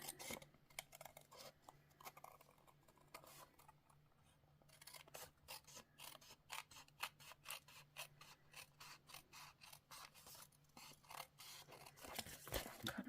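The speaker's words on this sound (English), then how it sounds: "Then we'll take our scissors" Scissors or snips cutting paper for a handmade rain-themed birthday card, a close, quiet run of crisp snipping and rasping strokes that quickens toward the end, with no talk.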